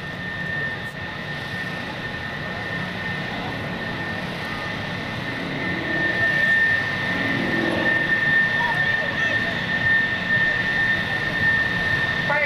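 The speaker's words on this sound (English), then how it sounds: "a gorgeous picture of that beautiful plane in the sky" At the 2002 NAS Oceana Airshow, a steady jet roar fills the air, swelling louder midway as a FedEx-liveried aircraft passes overhead, with a constant engine whine above the rumble.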